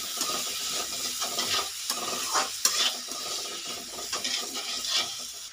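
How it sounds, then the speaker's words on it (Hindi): Potatoes and onions fry in a pan, stirred steadily with bright sizzling and repeated scraping strokes, close and moderately loud with no talk. "किए हुए कटे हुए आलूओं को ऐड करेंगे इसमें। और हम इसे थोड़ा सा फ्राई कर लेंगे स्लाइटली, आलू को"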